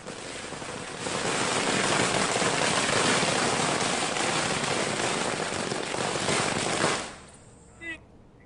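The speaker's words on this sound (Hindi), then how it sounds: "उनके शाहजहांपुर के आवास पर आतिशबाजी भी की गई" Fireworks set off by supporters at a politician's residence in Shahjahanpur make a dense, continuous crackling roar for about six seconds before cutting off, followed by a single faint pop.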